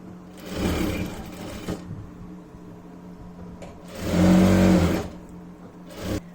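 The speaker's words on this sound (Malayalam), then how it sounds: "ഇപ്പൊ നമുക്ക് ഹെമ്മിങ് ചെയ്യാനായിട്ട് വളരെ സിമ്പിൾ ആയിട്ട് ഇങ്ങനെ അങ്ങോട്ട് തയ്ച്ചു കൊടുക്കാം" Electric sewing machine stitching a folded hem on fabric, running in short bursts with whirring motor pulses and rapid needle chatter, a longer loud run near the end, no voices.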